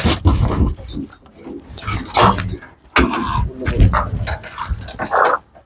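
A pit bull dog growls and snarls loudly at close range in rough bursts, with brief pauses between them. Faint human voices mix in.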